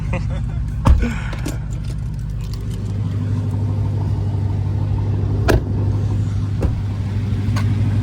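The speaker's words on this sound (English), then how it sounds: "If I start my car, you're gonna be like, damn, that's a SRT." A 2018 Dodge Charger Hellcat SRT fires up and settles into a loud, deep, steady rumble with sharp mechanical clicks and a few thumps, close by and continuous.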